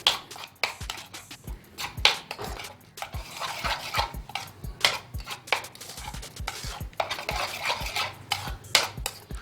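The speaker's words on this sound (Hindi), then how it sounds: "ये भी हम इसमें मिक्स कर देंगे। इस बैटर को हम मिक्स करेंगे।" A ground onion batter with green chili and tomato is stirred in a bowl, giving a fast run of close, sharp clicks and wet scrapes from a spoon against the vessel in uneven rhythm, with no voices.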